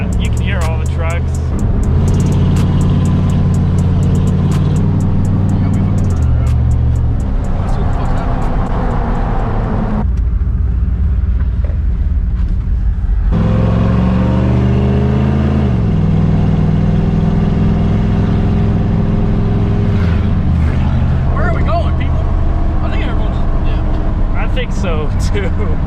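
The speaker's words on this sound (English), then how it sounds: "you can hear all the trucks" Trucks gathered at a truck meet rumble loudly nearby, engines droning with revs rising and falling over a steady low roar, while people talk throughout.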